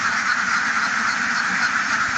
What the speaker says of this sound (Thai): เป็ดเยอะมากเลยเนาะ